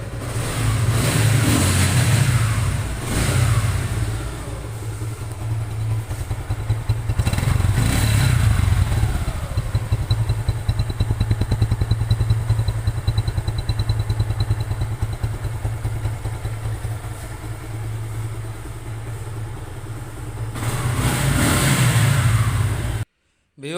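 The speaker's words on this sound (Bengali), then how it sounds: "বাইকটির সাউন্ড কোয়ালিটি দেখেন" A Suzuki Gixxer naked motorcycle, in untouched engine condition, runs close by with repeated revs rising and falling over a steady, loud idle, the throttle blipped at the start and near the end.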